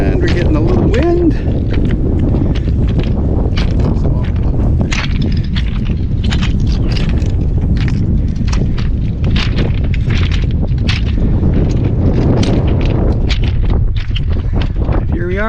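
Strong wind blows across a microphone on a small public beach on Bass Harbor, Maine, in December. It makes a loud, constant low rumble and buffeting that lasts the whole stretch, with faint water sounds beneath.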